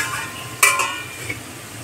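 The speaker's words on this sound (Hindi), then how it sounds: "इसमें हल्दी डाल देंगे, हल्दी को हम तेल में ही डालेंगे ताकि हल्दी अच्छे से पक जाए" Turmeric and onion stirred into hot oil in a pan for rajma, with a brief sharp scrape or clink of the spoon against the pot, then a low steady sizzle.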